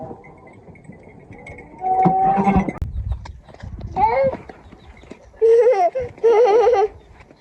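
Sheep and lambs on a village farm in Bulgaria give several wavering bleats, the loudest in a burst near the end, with people talking and laughing nearby between them.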